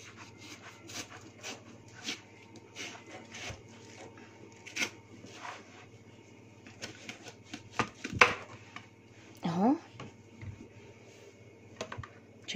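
Knife cutting into a watermelon, with a series of crisp slicing crunches and scraping strokes, close and intermittent, plus a few louder cuts and a brief rubbing squeak, with no talking.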